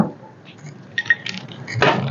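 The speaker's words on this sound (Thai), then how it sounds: "ต้องยกกระทะนี้ขึ้นก่อนค่ะ" A wok used for stir-frying pork cracklings with shrimp paste is lifted off the stove, giving a few brief metallic clinks and a louder scraping clatter near the end, heard up close.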